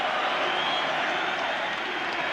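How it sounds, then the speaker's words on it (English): A large football crowd at the Stretford End applauds steadily, a dense, continuous wash of clapping and crowd noise that stays loud throughout. "At the Stretford end, they are standing and staying and applauding"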